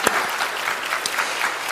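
Audience applause at a sustainability summit, a dense steady patter of many hands clapping at once, close and fairly loud, with no speech over it.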